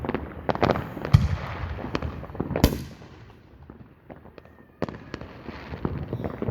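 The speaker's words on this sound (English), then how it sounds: "They're shooting fireworks everywhere." Fireworks going off at an outdoor air show: a rapid series of sharp cracks and booms, some close and loud, others distant, with crackling between bursts and a brief quieter lull.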